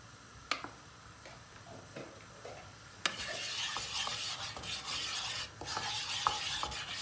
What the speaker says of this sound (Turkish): Unumuz kavrulmaya başladı. Dumanlar çıkmaya başladı.